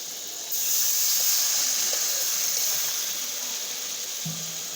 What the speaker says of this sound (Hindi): अब पानी डाल दीजिए